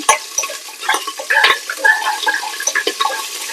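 Mushrooms frying for biryani in a pan, a crackling sizzle broken by repeated spatula scrapes and clinks against the metal, close and fairly loud, with no speech.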